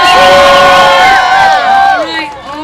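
Crowd at the Alaska State Fair cheering and shouting loudly, with many voices whooping together near and continuously before easing off slightly toward the end.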